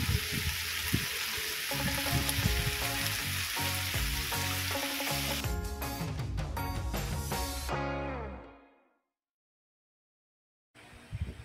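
Vegetables with green onions sautéing in a pan give off loud, steady sizzling and frying for about eight seconds before cutting to silence, then a brief return of sizzle at the end.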